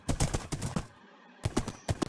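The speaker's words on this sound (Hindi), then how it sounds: "मैं चला घोड़े के साथ एडवेंचर पे यार" Horse hooves clip-clop during riding in the video game Minecraft, a quick run of sharp close hoofbeats, a short pause, then a few more steps, without talk.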